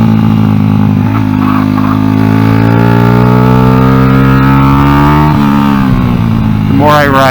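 Honda NSF100 motorcycle fitted with a salvaged XR100 engine is ridden, its engine droning loud and close throughout, with pitch dropping and rising through gear changes and a rev climb near the end.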